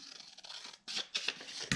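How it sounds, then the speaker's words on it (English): Scissors snip and trim a small scrap of craft paper, a few short crisp cuts close up in a quiet room, with the strongest snips coming near the end. "all I'm going to do is take my scrap piece, trim away just a little,"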